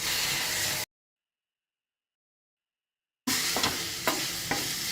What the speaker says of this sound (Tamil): தக்காளி கொஞ்சம் லைட்டாக மசிகிற வரைக்கும் வதக்கிக்கோங்க.